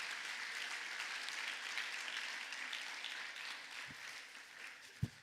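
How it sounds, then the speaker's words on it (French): Soft, steady applause from a church congregation after a prayer, a distant, even patter of many hands that continues throughout, ending with a couple of louder thumps near the close. "est-ce qu'on peut applaudir Jésus si vous voulez?"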